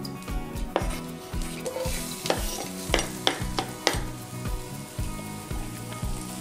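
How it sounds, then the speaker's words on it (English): Ginger, lemongrass and garlic toast in hot oil with steady sizzling and repeated stirring scrapes, several sharp clinks of utensil on pan cutting through the frying noise. "I wanna toast our aromats just to give it more flavor"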